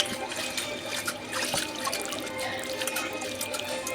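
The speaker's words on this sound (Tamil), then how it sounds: "பருப்பு வந்துட்டு எடுத்து குக்கரில் போட்டுட்டு அது வாஷ் பண்ணணும்" Toor dal being rinsed with water inside a pressure cooker, a steady close trickling and sloshing of water with a continuous wet splashing texture and no talking.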